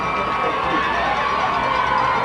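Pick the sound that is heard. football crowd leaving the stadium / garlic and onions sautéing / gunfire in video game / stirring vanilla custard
football crowd leaving the stadium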